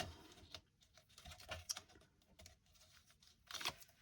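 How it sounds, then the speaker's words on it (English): Tape peeled off a small paper accordion envelope in a craft setting: several short, crackly bursts of ripping noise, the loudest near the start and end, with quieter rustling of paper between. "grab this tape off"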